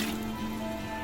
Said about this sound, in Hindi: पालक की बॉइलिंग के लिए मैंने ले लिया है पॉट। इसमें मैं ऐड करूंगी 1 लीटर पानी